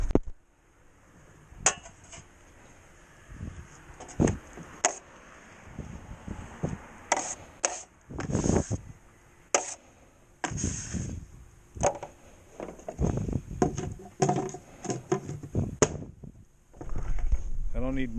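A drywall knife, six inches wide, scoops hand-texture joint compound and scrapes it into a mud pan during a patch repair, with scattered clacks, taps and scraping strokes. Brief talk drifts through between the tool sounds.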